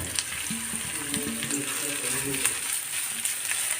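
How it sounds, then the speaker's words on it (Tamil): Soya chunks sautéed in a pan with sautéed onion, giving a continuous soft sizzle with faint stirring clicks, close and steady with no talking. "இந்த இதை வதக்கிட்டு இதில் வந்து நம்ம அந்த சோயாவை போட்டுருவோம்"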